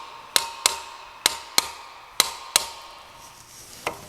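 Hammer-driven punch knocking old rivets out of John Deere brake parts, a series of six sharp metallic strikes in an irregular rhythm, close and ringing, followed by a pause and one lighter final tap.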